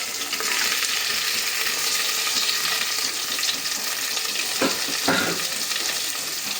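Onions sautéing in a pan with a steady, moderately loud frying sizzle throughout, and a couple of brief stirring clatters near the end; no voices.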